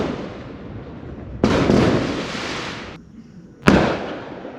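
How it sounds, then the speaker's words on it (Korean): Fireworks boom and crackle in loud bursts at night in the Philippines, with a sharp bang near the end over a steady outdoor rumble. "다시 1분 간격으로 간헐적으로 폭죽 소리가 들리네요"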